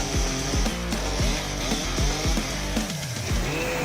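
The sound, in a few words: chainsaw cutting through wood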